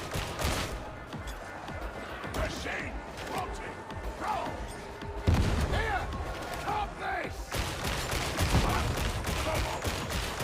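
Shotgun blasts and grenade explosions from the video game Darktide, heavy impacts scattered across busy combat noise, with talk over parts of it.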